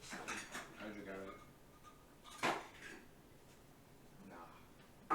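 Glass drinkware handled at home as fancy glasses are brought out for drinks, with a few light clinks and knocks scattered through the clip under people talking nearby.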